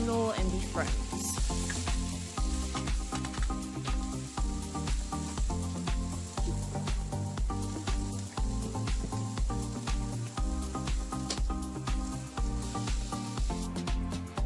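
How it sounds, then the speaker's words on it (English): Taco filling sizzles loudly in a pan, a continuous close hiss with repeated scraping stirs throughout and no voices over it. "Then I'm gonna go ahead and stir everything so everything can cook together"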